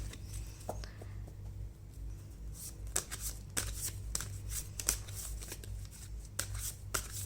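Tarot cards shuffled and drawn during a love reading: soft continuous riffling with sharp crisp snaps as cards are drawn and flipped, close and fairly quiet over a low steady hum.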